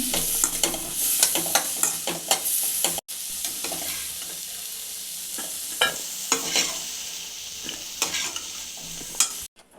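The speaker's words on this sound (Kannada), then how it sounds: "ಒಂದು ನಿಮಿಷ ಇದನ್ನು ಚೆನ್ನಾಗಿ ಫ್ರೈ ಮಾಡ್ಕೊಬೇಕು ಕ್ಯಾಪ್ಸಿಕಮ್ನ ಫ್ರೈ ಆಗಿದೆ" Capsicum pieces frying in oil in a pan, with a steady close sizzle broken by repeated sharp scrapes and clatters of a spoon stirring, and one brief gap in the middle.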